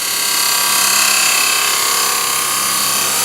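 A wooden lidded ring box spins at about 2,000 RPM on a lathe while a spindle gouge cuts it, giving a steady, loud, continuous hiss and whir with no breaks, heard alone without any talk.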